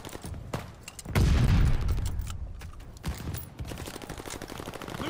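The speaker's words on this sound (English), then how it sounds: "Allied mortar fire inbound!" Allied mortar fire in Call of Duty: Vanguard multiplayer, one heavy booming impact followed by rattling gunfire bursts and battlefield clatter.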